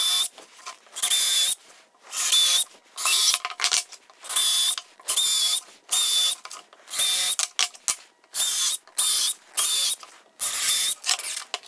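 Power drill and driver whirring in short repeated bursts, a dozen or so runs separated by brief pauses, close and steady.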